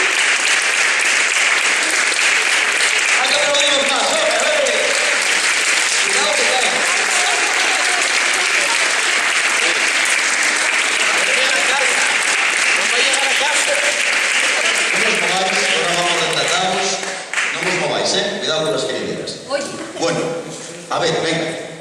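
Sustained crowd applause at a cheese festival gathering, loud and continuous, with voices talking over it toward the end as the clapping thins out.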